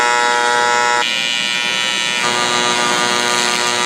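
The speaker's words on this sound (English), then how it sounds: "I'm just gonna weld this, all this, a couple more TIG welds." Steady, loud buzzing hum of TIG welding on an aluminum hull of a 12-foot Jetstream Buccaneer mini jet boat, continuous with a slight shift in tone partway through and no talk.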